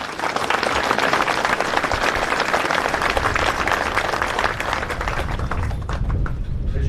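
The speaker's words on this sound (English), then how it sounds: "please give a round of applause to the family." A crowd at a retirement ceremony breaks into sustained, dense applause that holds at full strength for several seconds and thins slightly at the end.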